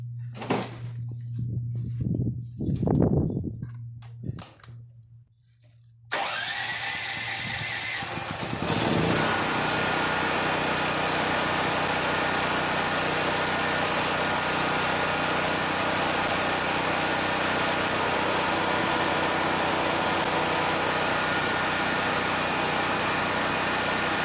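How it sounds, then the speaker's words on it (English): A new Firman T07571 portable generator running on LPG propane drones steadily and loudly while powering a small air pump, which kicks in after some handling clatter and adds a constant hissing buzz. "now I just want to test it on my little air pump here"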